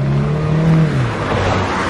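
Car traffic on a snowy road in Switzerland, with a steady, fairly loud engine drone from a nearby vehicle whose pitch holds and then drops slightly as it moves past.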